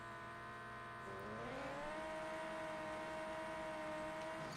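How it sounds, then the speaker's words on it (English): A car engine in the drag racing game No Limit 2 revs up from a low hum to a higher sustained whine, then holds steady, fairly faint and smooth. "So this car is a bit louder."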